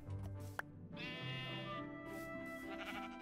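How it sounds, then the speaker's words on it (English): Sheep in the Minecraft video game bleat quietly, with a couple of drawn-out wavering bleats over faint game background sounds and a brief click. "Let's shear the sheep."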